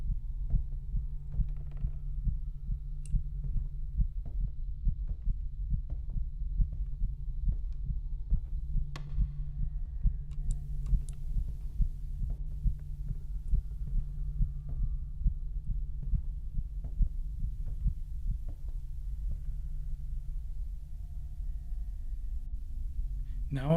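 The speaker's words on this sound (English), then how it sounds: "What is the heartbeat?" A continuous low heartbeat-like throbbing from a haunted-house surveillance livestream, steady rhythmic pulses under a constant hum, fairly loud and close, with scattered faint clicks and no talk.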